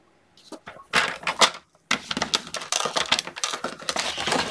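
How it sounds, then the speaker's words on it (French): Paper being creased and folded by hand for a pop-up album, a run of crisp rustles, taps and pressing scrapes close up, with short pauses between bursts. "je marque bien mes plis"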